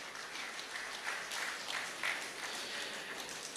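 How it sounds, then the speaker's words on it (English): Applause from the audience at a Rotary district governor installation ceremony: a steady, moderately distant wash of clapping that holds evenly for several seconds with no voices over it. "please give them a loudest applause and appreciation."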